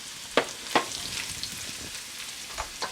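Carrots for Korean beef lettuce wraps sizzle in a hot pan as a soft, steady hiss, broken by a few sharp clicks and scrapes from stirring.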